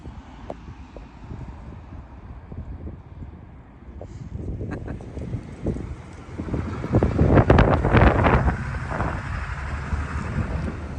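Strong wind buffeting a microphone outdoors on the way from Denver to Moab, a constant rough roar that swells into heavy gusts toward the end, loud and close.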